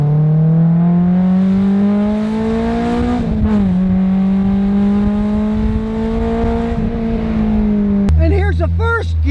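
Honda sports car with a small 4-cylinder engine pulling hard in first gear, its tone climbing steadily, dipping briefly at a shift, then climbing again before cutting off; a voice talks over the engine.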